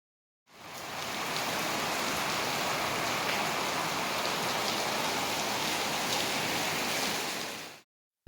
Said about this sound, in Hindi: इतनी तेज़ बारिश स्टार्ट हो गई थी